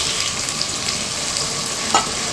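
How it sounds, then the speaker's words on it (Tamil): Tomatoes tipped into a pan of sautéed onions, mint and coriander for gongura chicken curry, with a steady close sizzle throughout and a short dull thump near the end as they drop in. "இப்போ வெங்காயம் எல்லாம் புதினா கொத்தமல்லி எல்லாம் நல்லா வதங்கிடுச்சு. ஒரு 2 தக்காளி போடுறேன்."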